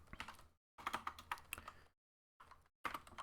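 Computer keyboard typing in rapid bursts of key presses, with short silent gaps between runs of keystrokes, close and fairly quiet, no talking.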